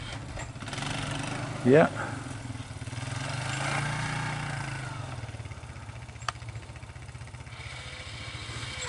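An old snowblower engine runs at a steady idle, a low throbbing putter that continues throughout at moderate distance, with a voice briefly speaking over it.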